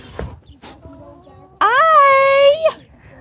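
At a farm petting zoo, a rooster lets out one loud, sustained crow lasting about a second, following a few softer, scattered clucks and noises from the chickens.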